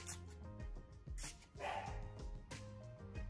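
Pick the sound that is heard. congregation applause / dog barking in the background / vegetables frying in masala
dog barking in the background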